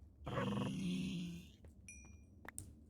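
A dog in Minecraft, played on the StoneBlock modpack, lets out a low rumbling growl for about a second, followed by a few short, bright in-game chimes and clicks.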